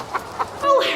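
A chicken gives two short, soft clucks, then a longer, louder squawking cluck, close by.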